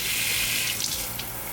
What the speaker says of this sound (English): I'm going to put it under the water, warm water, and I'm just gonna rinse that residue out.